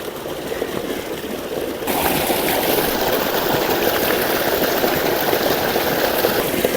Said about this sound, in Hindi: चलिए, चिकन को हमने अच्छी तरह वॉश कर लिया है